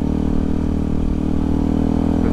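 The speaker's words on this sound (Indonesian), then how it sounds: "Maaf, knalpot saya bacot." A Yamaha WR155 motorcycle with a loud aftermarket exhaust throbs steadily at close range, a continuous heavy burbling drone with no talking.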